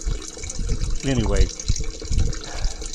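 Water draining from a hall bathroom toilet after a flush during a flow test, a close gurgling, trickling drain beneath a person talking.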